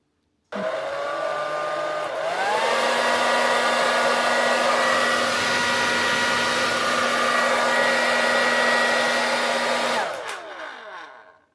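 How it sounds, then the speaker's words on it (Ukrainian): An old Ga.Ma iQ1 Perfetto hair dryer whirs steadily with a loud, harsh motor drone, its pitch rising after a couple of seconds, then winding down as it switches off. "зараз послухаємо звук, який видає цей старенький фен"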